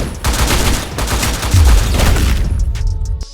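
Rapid, dense gunfire from the fast-paced mobile shooting game T3 Arena, with continuous bursts of shots and heavy booms, loud and close, with no voices.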